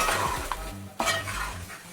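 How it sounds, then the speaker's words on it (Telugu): Chicken fry being stirred in a pan, a spoon scraping and clinking against the metal with a soft sizzle underneath, a couple of sharper scrapes standing out over about two seconds. "ఒకసారి మళ్ళీ కలుపుతున్నాను"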